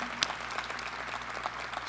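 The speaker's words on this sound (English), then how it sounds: "Let's give them a round of applause" Applause at an EMS graduation ceremony in Cleveland, a steady wash of many hands clapping throughout, moderately loud and somewhat distant, with no voices standing out.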